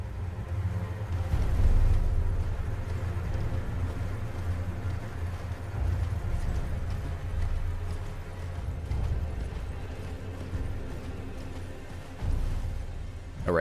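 Horse hooves clip-clop at a steady, continuous trot while riding through the open world of the Elden Ring video game, a rhythmic low thudding that stays fairly loud and close throughout without any talking.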